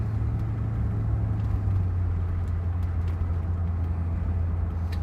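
A 1979 Rolls Royce Silver Shadow II cruising on the freeway, giving a steady, smooth low road and engine rumble inside the cabin with no talking.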